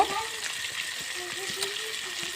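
Water runs steadily as onions are rinsed in the kitchen for a fish recipe, a soft continuous splashing flow with faint clinks of handling.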